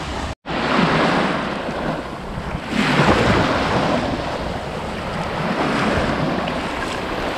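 Ocean surf washes against the shore of Prince Edward Island, steady and close, with heavy wind buffeting the microphone and a brief dropout near the start.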